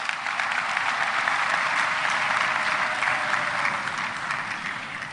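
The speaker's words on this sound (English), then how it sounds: "Let us all put our hands together and give the class of 2026 a" Sustained applause from a university graduation ceremony audience for the graduating class of 2026, a dense, steady wash of many hands clapping for the full five seconds with no talk over it.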